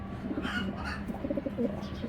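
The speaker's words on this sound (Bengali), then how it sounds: "দেখা যায় যে পাকিস্তানি ক্যাটাগরির কবুতর" Soft, low coos of Pakistani-type giribaz flying pigeons repeat several times against a murmur of background noise.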